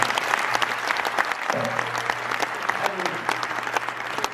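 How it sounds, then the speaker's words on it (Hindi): An audience at a Hindi kavi sammelan poetry gathering claps steadily and fairly loudly, a dense patter of hands continuing throughout with faint voices underneath. "एक बार तालियां बजा के थोड़ा माहौल बनाया"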